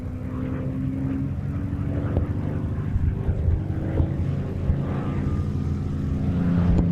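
A Spitfire Mk V propeller fighter drones at a moderate distance over an airshow, a steady engine hum rising slightly toward the end, with no talk.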